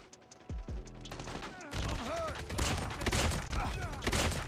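ASM10 rifle fire in a Call of Duty Mobile match crackles in loud, rapid bursts among game effects and explosions, with a voice talking over the action.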